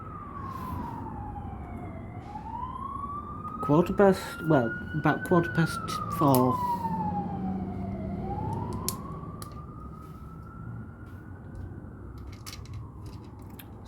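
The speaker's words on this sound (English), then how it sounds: "Sirens, if you can hear those." Emergency vehicle sirens outside, a wailing tone rising and falling slowly and steadily, moderately distant, with someone speaking briefly over it partway through.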